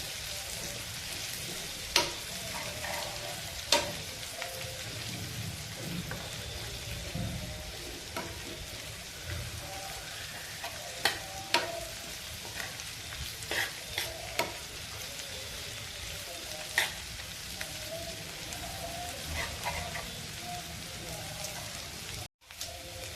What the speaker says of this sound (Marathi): आता हे सर्व चांगलं परतून घेते